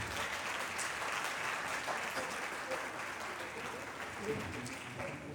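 Summit attendees in Benin keep up a sustained round of applause, a continuous dense patter of many hands, with faint murmurs and a voice occasionally rising above the clapping.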